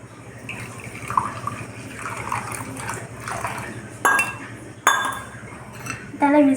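Water is poured into a small bowl holding a spoonful of sugar and a packet of shampoo, close by, with light clinks and knocks of dishes and a spoon around it. No one speaks.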